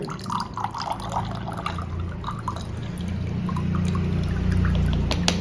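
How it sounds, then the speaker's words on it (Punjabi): About 50 ml of water poured out nearby, a continuous trickling, splashing flow with small drips that grows slightly fuller toward the end, with no talking over it. "50 ml ਪਾਣੀ ਆਪਾਂ ਹੋਰ ਪਾ ਦਿੱਤਾ"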